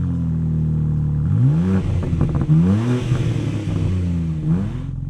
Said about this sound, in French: les deux doubles sorties d'échappement, ici du plus bel effet et qui permettent d'avoir un très bon son